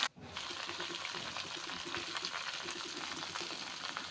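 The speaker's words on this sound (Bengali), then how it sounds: "লাল শাক ভাজি করব" Red amaranth leaves fry in a pan with a continuous, moderately loud sizzling hiss after a brief quiet start, fairly close, with no clear voices over it.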